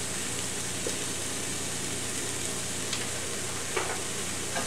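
Taco seasoning is stirred into a sizzling pan of meat with water and soy sauce for taco casserole, a steady broadband frying hiss with a few faint spoon scrapes, no voices.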